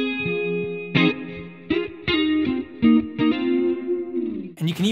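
A distorted electric guitar tone previewed through a Spark amp's app plays a riff of chugging, sustained chords with chorus and effects coloring, loud and upfront, ending in a brief burst of brighter strums.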